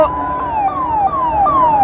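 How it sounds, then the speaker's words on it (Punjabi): An ambulance siren passes during a tractor rally at the Tikri border, a loud, close wail repeating in quick falling sweeps over a low hum of crowd and traffic. "ਐਂਬੂਲੈਂਸ ਜਾ ਰਹੀ ਹੈ"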